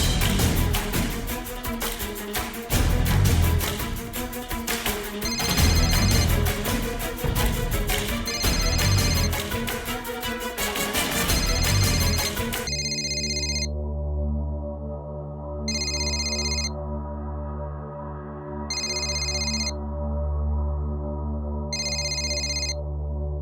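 A phone call rings unanswered, repeated electronic ring bursts with regular pauses and steady ringback tones, following a stretch of music-like comedy background.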